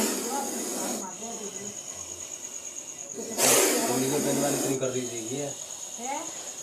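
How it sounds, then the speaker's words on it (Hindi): A cobra hisses in bursts, forceful breathy hisses starting and stopping close by, with a louder blast midway, over a background of faint voices and a steady high electrical whine. "इतनी भयानक आवाज़ जो आप सुन रहे हो ये इसी सांप की है"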